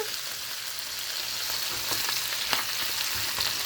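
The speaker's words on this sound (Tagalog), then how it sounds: "So now we can fry our seasonings here." Ginger and seasonings fry in plenty of oil for chicken adobo, giving a steady, fairly quiet sizzle with a few faint crackles and spoon scrapes, and no voices.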